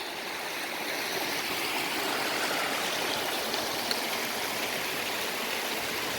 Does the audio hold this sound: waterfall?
yes